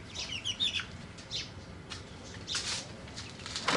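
Two chicks and three hens give faint, scattered clucks and chirps, a few short calls spread across a quiet backyard background.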